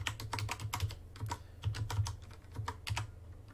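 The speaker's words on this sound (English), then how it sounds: "now I'm going to type in name server" Typing on a computer keyboard, quick irregular bursts of close key clicks in several runs, with a low steady hum underneath and no voices.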